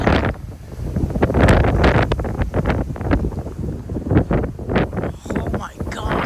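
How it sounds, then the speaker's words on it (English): Strong gusty wind of about 30 mph roars and buffets the microphone outdoors in Frisco, Texas, rising and falling in loud surges throughout with steady rumble underneath. "It is a freaking windy one today. It is so windy today."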